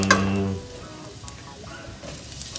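Onions caramelizing with pork in a hot pan give a steady sizzle, loudest in the first half-second and then settling into a quieter, even crackle close by. A voice briefly rises over the frying at the start.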